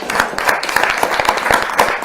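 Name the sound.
audience applause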